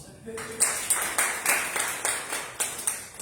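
An audience applauds at a Forever business opportunity meeting, a run of sharp, evenly spaced claps that swell and fade in repeated bursts.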